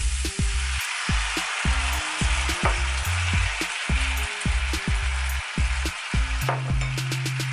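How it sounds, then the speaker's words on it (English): Beef frying with sauce in a skillet, a loud continuous sizzle with rapid repeated tossing and stirring scrapes against the pan, close up. "Got my beef in, just tossing it. Now I'm gonna go ahead and add in my sauce."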